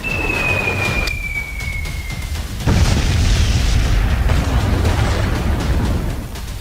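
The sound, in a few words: explosions from bomb blasts in Ukraine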